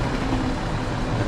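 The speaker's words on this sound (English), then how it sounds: "I'm enjoying the diesel sound on this train" A diesel train engine in Train Simulator Classic gives a continuous low, droning rumble, with the steady engine hum holding throughout and no speech.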